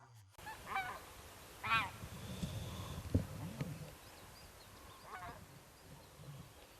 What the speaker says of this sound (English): spotted a flock of wild geese flying along the current of the Lena River